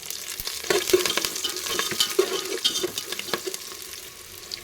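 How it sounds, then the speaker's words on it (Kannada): Mustard seeds, onion, garlic, curry leaves and Byadagi chilli sizzle in hot oil for a tempering, crackling up close while a spoon stirs and clinks against the pan in irregular bursts. "ಮತ್ತು ಬ್ಯಾಡಗಿ ಮೆಣಸಿನಕಾಯಿ ಇಷ್ಟನ್ನು ಒಗ್ಗರಣೆ ಹಾಕ್ಕೊಂಡಿದ್ದೀನಿ"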